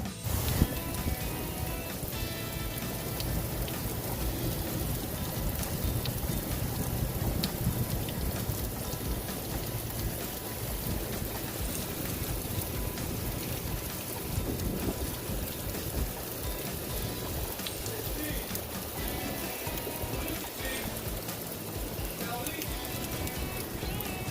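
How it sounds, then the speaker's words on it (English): Steady, dense rain pours down in a continuous hiss and patter on surfaces, unbroken and fairly loud throughout. "At first, it was lightly, like drizzle, and now it's raining like crazy."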